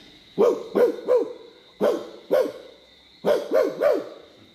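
A storyteller at a Martinique storytelling festival mimics a dog barking: woof-like calls in a quick group of three, two more after a pause, then another three, close and clear.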